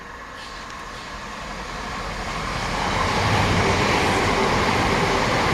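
The Merchant Navy steam locomotive Clan Line approaches on a model railway, a broad steady rumble and hiss that grows louder and nearer over several seconds.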